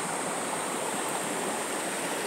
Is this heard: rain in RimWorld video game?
no